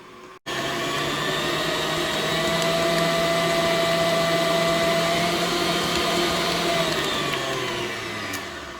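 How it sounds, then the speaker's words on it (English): An electric stand mixer drones steadily and loudly as it beats butter and icing sugar for shortbread, a continuous motor whir that starts abruptly and holds an even pitch throughout. "Don't start your mixer too fast right away because icing sugar will poof up and go in your face"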